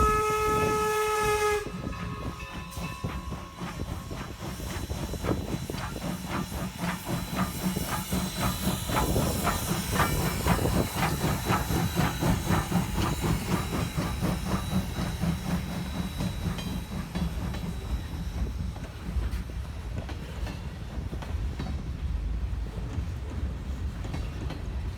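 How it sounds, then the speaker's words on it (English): Strasburg Rail Road steam locomotive hauling a freight train: a short horn blast opens, then rhythmic chuffing exhaust beats and hissing steam build up loud and close before easing slightly as it passes. "you can actually see a steam-powered freight train"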